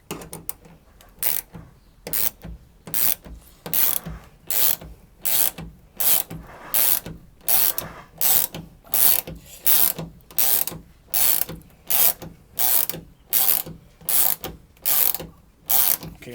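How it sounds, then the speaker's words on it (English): A tool setting a plus nut in a Mercedes Sprinter rear door, steady repeated ratcheting clicks in even bursts about once a second, close and fairly loud, with no talk. "I'm deploying the plus nut now"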